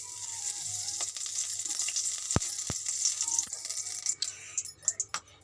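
Ghee sizzles softly in a heated kadai as raw papaya halwa is started, a quiet steady frying hiss followed by a few sharp metallic clinks near the end.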